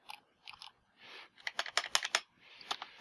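Rapid bursts of keystrokes on a computer keyboard while entering Raspberry Pi GPIO code, close and fairly quiet, in uneven clusters with short pauses between them.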